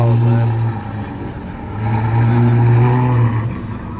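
A Ferrari F12 supercar engine revs loudly nearby, a deep droning roar that rises and falls in sustained swells, with a voice speaking over it.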